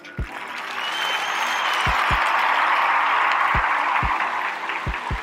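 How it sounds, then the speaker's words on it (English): Applause plays as a broad, steady wash that swells and holds for several seconds, while a few sharp, close thumps or taps sound over it at irregular intervals. "So I'm gonna pause for the applause."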